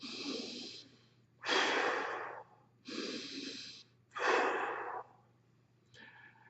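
Slow, deep breaths drawn in and let out while a foot is held stretched over a ball, four loud breathy cycles alone with steady pauses between them and a fifth softer one at the end.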